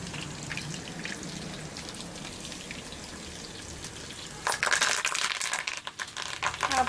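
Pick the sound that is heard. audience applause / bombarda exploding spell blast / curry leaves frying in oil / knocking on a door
curry leaves frying in oil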